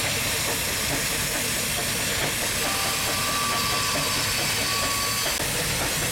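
A steam traction engine powering a saw bench at the Great Dorset Steam Fair chuffs and hisses steadily with a dense mechanical roar, a faint whine rising partway through.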